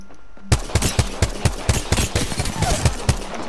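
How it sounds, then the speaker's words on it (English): Rapid bursts of gunfire in Apex Legends, loud and punchy, a Havoc rifle firing in quick repeated shots after a quiet start. "Gunfire coming from over here."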